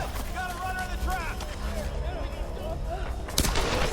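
Gunfire rattles through combat in Tomb Raider at a mountain temple, moderately loud shots under someone talking over the game, with a sharp louder crack near the end.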